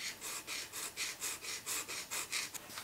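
A piston ring from a Renault Trafic 1.9 dCi engine filed by hand, about a dozen regular rasping strokes in a steady back-and-forth rhythm, quiet and close, with no talking.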